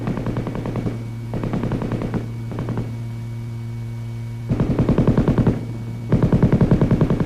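An M-60 7.62 mm belt-fed, gas-operated machine gun fires loud, rapid bursts of automatic fire, several sustained bursts separated by short pauses over a steady electrical hum.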